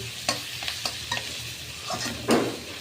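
Prawns fry with onions in a pan over low heat, a soft sizzle under repeated taps and scrapes of a spatula, ending with a louder stirring swish.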